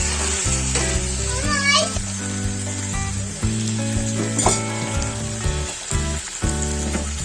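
Masala for a rohu fish curry with cauliflower, potato and yogurt sautéing in a pan, a constant sizzle and hiss under bright background music with stirring scrapes now and then.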